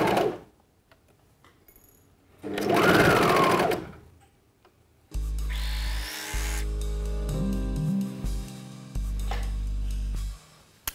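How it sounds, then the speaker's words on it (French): A domestic sewing machine runs zigzag stitches along a swimsuit crotch seam of lycra and lining, with a short whirring burst, then a longer steady run that pauses briefly and resumes, close and loud with no talk. "on va venir la coudre, donc ou à la surjeteuse ou à la machine à coudre au point zigzag"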